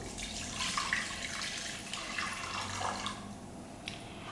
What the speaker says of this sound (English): after extracting our coconut milk, it's just to pour it into a clean pot